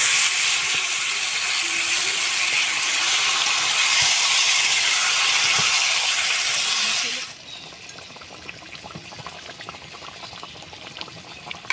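Mutton rubbed with chopped onion and spices hits a hot pan in a village kitchen, giving a loud, steady broadband sizzle that drops suddenly after about seven seconds to a quieter crackling fry.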